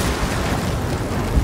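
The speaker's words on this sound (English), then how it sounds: "The thunder." Thunder in Ghost of Tsushima rolls as a brief, heavy, low rumble, loud and close, with no voices over it.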